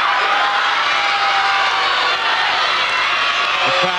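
Athletics stadium crowd at a 1989 AAA championships 1500m race, a loud, dense, continuous roar of cheering filling the whole stretch with no break.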